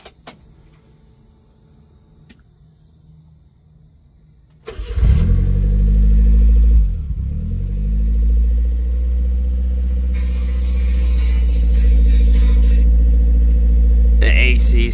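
A turbocharged 660cc Subaru Sambar kei truck with EFI conversion cranks and fires after a quiet stretch, then settles into a steady, loud, close idle with a brief dip as it catches, and a faint whine joining later.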